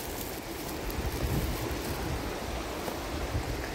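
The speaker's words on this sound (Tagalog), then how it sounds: "Ang lakas ng agos ngayon" A strong, rain-swollen river current of muddy water rushes steadily and loudly nearby, a continuous broadband roar with no pauses.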